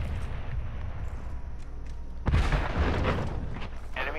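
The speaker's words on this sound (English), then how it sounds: "Large caliber rounds." Large-caliber rounds fire in the Call of Duty: Modern Warfare II video game, heavy booming blasts rising over a dense battle din midway through and rumbling on to the end.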